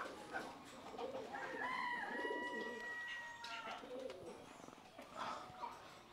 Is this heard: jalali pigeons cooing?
yes